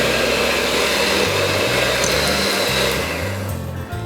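An electric kitchen mixer whirs steadily close by, beating egg yolk with vanilla extract into a creamy mix, its motor tone stepping up and down slightly as it works.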